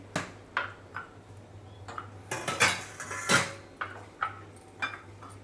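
Spice powders of pepper, cumin and coriander being stirred together in a bowl, heard as a string of light clinking taps of utensil against dish at an irregular, unhurried rhythm, close and fairly quiet, with no talking.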